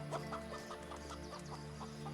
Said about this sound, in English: Chickens are not known for being good conversationalists.